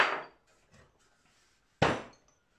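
Two sharp metallic hammer blows ring out about two seconds apart while rivets are closed on a model traction engine, a 2-inch Fowler Showman's, each strike decaying quickly into quiet.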